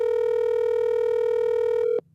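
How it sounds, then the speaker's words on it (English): A phone line for a prank call gives out a steady, loud electronic tone that holds for about two seconds, then cuts off abruptly, leaving near silence. "Your phone rings like shit."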